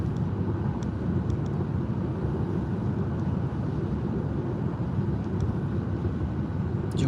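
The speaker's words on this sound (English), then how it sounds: "This has a lot more motor noise." Steady low droning hum inside a Lucid Air GT electric car during highway driving, electric motor whine blended with road and cabin noise, continuous and even throughout with no talking.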